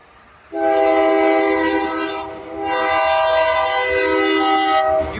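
A Union Pacific freight train led by a UP trio including a Tier 4 ACE locomotive sounds a loud, sustained air horn close by, in two long blasts with a short dip between.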